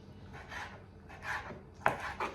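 A knife cuts through cooked tripe on a board in a home kitchen, making four close, soft, wet chops at an irregular pace, the last two sharper.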